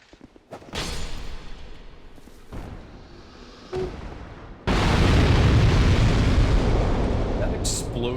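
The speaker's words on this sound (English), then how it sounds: "That explosion noise is so brutal." A sudden heavy blast effect from the game Dark Souls II erupts and rolls on as a loud, sustained roar, preceded by several shorter booming bursts amid other game sounds.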